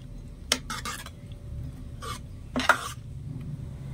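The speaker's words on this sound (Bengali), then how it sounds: "ভালো করে একটু নেড়ে চেড়ে মিশিয়ে নেব।" A spoon stirs semolina batter in a bowl for mini milk chitoi pitha, making a few short, faint scraping and clinking strokes spaced irregularly over a quiet kitchen background.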